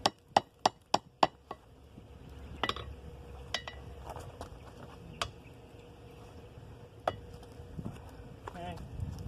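Sharp metallic hammer strikes ring out on an anvil while spring tongs are shaped around the horn, a quick burst of five blows followed by sparse, fainter taps over a quiet shop background.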